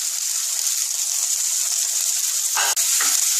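Tomatoes frying in a pan of hot oil give a steady, close hiss and sizzle throughout, with one brief, sharper crackling burst near the end.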